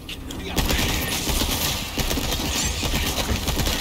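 Rapid submachine gun fire from a TMP in Resident Evil 4 Remake, a dense continuous burst after a brief quiet start, loud and close with faint mixed game sounds underneath.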